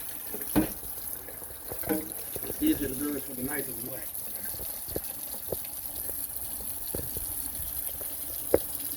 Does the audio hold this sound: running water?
yes